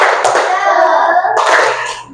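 A group of children claps together in quick rhythmic bursts, bright and close, with young voices chanting an Indonesian clapping cheer along over the clapping.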